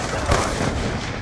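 Gunfire in the video game Black Ops 2 comes as a short, sharp burst of shots mixed into dense game noise and voice, close and moderately loud.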